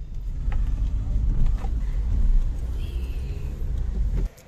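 A car is driven slowly through a market area with a steady low engine rumble and road noise, faint clatter, and a brief high squeak midway, before the sound cuts off abruptly near the end.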